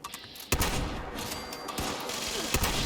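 A cryptid shotgun fires in Fallout 76, a few heavy blasts amid a dense, continuous wash of loud game combat noise, no speech.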